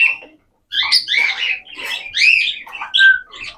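Pet birds let out a quick run of harsh, shrill squawks and chattering calls, close and loud, in short bursts separated by brief gaps.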